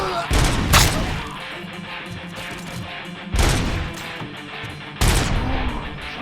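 Gunfire in Robocop: Rogue City: three loud bursts of shots and impacts cut through a busy game soundscape, spaced a couple of seconds apart.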